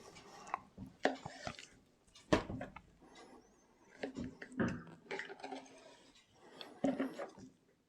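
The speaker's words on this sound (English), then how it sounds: "Cut your pork belly into 4 pieces." Knife chopping through raw pork belly to split it into four pieces, a series of sharp, close thuds and taps with scraping on a board, irregularly spaced.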